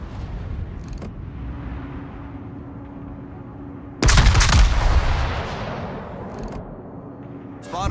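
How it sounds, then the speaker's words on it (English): Naval guns of the battleship Cristoforo Colombo fire in World of Warships as one heavy booming salvo that rolls out over several seconds against steady engine rumble, with brief scattered clicks before and after. "Concentrate fire on the enemy warship."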